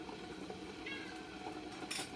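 A hungry cat meows for food in a kitchen, a few faint, repeated cries in the background over soft clatter of dishes and cookware.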